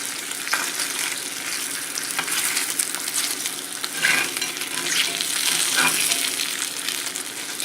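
Slices of bologna fry in a hot pan, giving a steady, dense sizzle with crackling pops throughout, close and fairly loud, with no voices over it.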